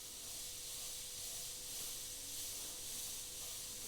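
Sparmax Max 4 airbrush spraying in a steady, continuous airy hiss that holds evenly throughout, close up and with no voices.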